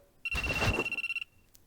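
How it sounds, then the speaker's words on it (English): A phone rings in a visual novel game, one loud, close electronic bell trill lasting about a second, with a fast pulsing tremolo before it cuts off. "My phone rang."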